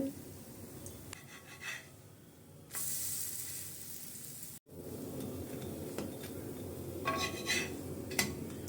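A sweet cassava adai cooking with a little oil on a hot griddle, a continuous soft sizzle broken by scraping and clinking of a spatula, with a brief louder hiss and a short dropout midway.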